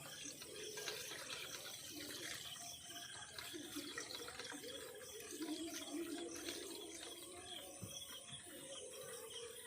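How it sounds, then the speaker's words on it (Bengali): Running water rinses chhana, fresh cheese made from powdered milk and curdled with vinegar, with a steady close splashing and trickling flow and some clinking handling noises throughout. "বন্ধুরা এবার আমি ছানাটা ভালোভাবে ধুয়ে নেব"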